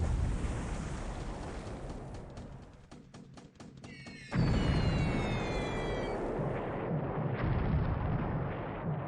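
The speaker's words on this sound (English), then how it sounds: "Yeah, 250-pound bomb. It's not a small thing." A 250-pound bomb bursts in the naval war game War in the Pacific amid a 1942 Indian Ocean raid, a heavy blast swelling into a loud, sustained rumbling roar after a stretch of rattling, crackling fire.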